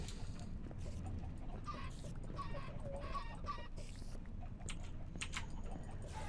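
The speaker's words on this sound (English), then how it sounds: "I can hear you murdering chickens" Chickens clucking in a video game, faint, scattered short clucks and squawks over a low continuous background rumble.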